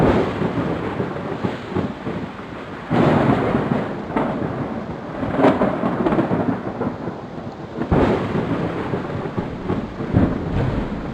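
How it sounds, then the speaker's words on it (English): Thunder from a lightning strike in a nature exploration computer game, deep rolling rumbles that swell in several loud bursts over steady rain. "A burst of heat from lightning makes the air nearby expand, sending out a wave of pressure. This creates the sound of thunder."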